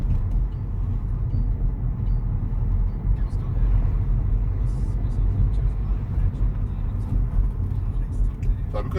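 A car drives along a road at gradually rising speed, its engine and tyre rumble forming a steady, loud low drone that holds for the whole stretch.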